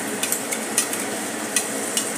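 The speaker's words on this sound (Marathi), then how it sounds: "हिंग चांगला परतून घेऊया" Onion and asafoetida sauté in a pan with a steady sizzle, punctuated by light, irregular scraping clicks of stirring, close up and with no talking.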